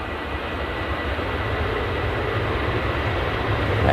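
A Ryanair airliner gives a steady broadband engine roar with low rumble, swelling slightly louder toward the end, with no talking.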